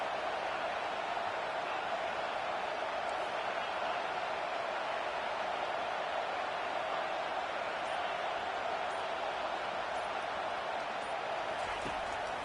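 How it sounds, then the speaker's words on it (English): Roaring stadium crowd at a professional sports game forms a dense, steady wash of cheering and chatter, loud and continuous throughout without distinct voices standing out. "wow, listen to this crowd noise. This stadium is vibrating."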